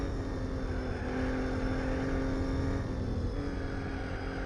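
Audi A3 with a V6 engine in the Gran Turismo 4 video game, its engine giving a steady, continuous drone that holds an even level throughout with no speech over it.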